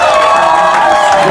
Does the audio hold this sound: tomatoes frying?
no